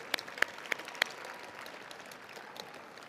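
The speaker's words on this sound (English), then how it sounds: "Let's give our power structural and technical members a round of applause" Faint, distant audience applause at a state science and technology fair awards ceremony, with a few sharper claps standing out early before it settles into a soft, steady patter.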